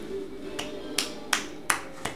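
A slow clap from the Darkest Dungeon game, five sharp claps spaced evenly and unhurried over a soft steady background hum.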